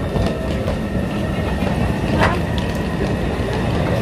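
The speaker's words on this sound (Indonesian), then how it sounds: "Kita lagi nunggu kereta, guys." A Taipei metro train rolls past a station platform with a steady, loud rumbling rush and faint wheel clatter that carries on throughout.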